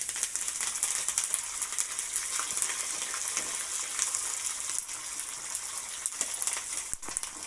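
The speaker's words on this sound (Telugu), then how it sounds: "ఇవన్నీ బాగా వేయించుకోవాలి." Curry leaves and dried red chillies fry in a pan for pulihora, making a steady crackling sizzle with occasional light clinks and rattles. No one speaks.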